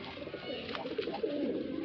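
Flying pigeons kept by a breeder in Bareilly, Uttar Pradesh, cooing softly in a low, steady murmur at close range, with no voices over them.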